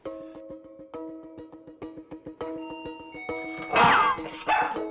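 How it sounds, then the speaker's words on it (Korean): A dog barks at the doorbell in quick repeated bursts, fairly close, rising into a louder yelping flurry near the end. "벨이 울리자 자동적으로 짖는 보리"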